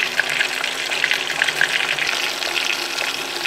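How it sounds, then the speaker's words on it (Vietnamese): Crispy chicken pieces sizzle in hot oil during a second fry, a steady, dense crackle of frying with no voices. "bây giờ mình sẽ cho vào mình chiên lại ấy"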